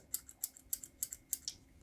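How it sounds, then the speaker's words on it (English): Plunger of a Kita-Boshi Japanese mechanical pencil clicked repeatedly, about six sharp, light clicks in an even rhythm, close and quiet with no talk. "it is a plunger click action"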